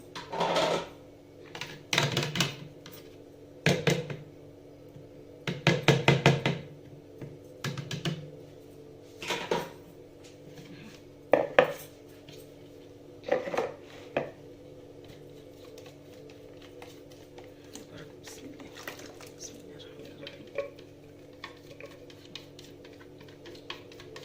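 Minced marinade mixture being tipped and scraped out into a bowl: a series of sharp scraping and tapping knocks, clustered at first and then sparser and fainter, set against a steady low background hum with no talking.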